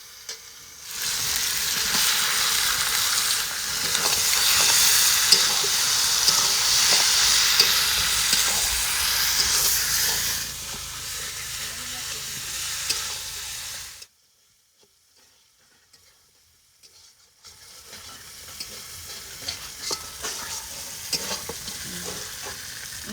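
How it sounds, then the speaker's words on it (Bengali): Meat sautéing in oil in a pan, a loud crackling sizzle with stirring scrapes that cuts out abruptly to near silence, then resumes more quietly. "মাংসটা কষানো হয়ে গেছে এবার মাংসটা পুরো তেল ছেড়ে দিতে"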